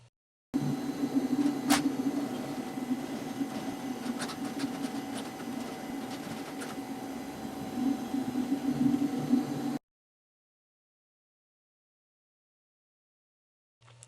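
A BAe 146 / Avro RJ aircraft jet engine gives a steady, even drone with a constant whine for about nine seconds, then cuts to silence.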